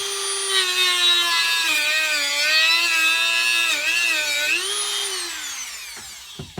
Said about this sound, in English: I've also been known to use a Dremel.